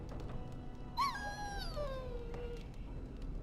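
A dog in Dragon Age: Origins lets out a single drawn-out whimpering howl that falls in pitch, heard clearly over low background ambience.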